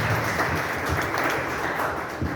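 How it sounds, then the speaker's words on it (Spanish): Congregation at a Christian wedding ceremony applauding, a dense steady burst of many hands clapping close and continuous without talk. "Vamos a darle un aplauso al Señor."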